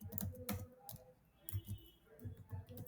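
Keys tapped on a computer keyboard while running Python code, with a Ctrl+Enter press; a series of quiet, close clicks in an irregular rhythm, with no talk over them.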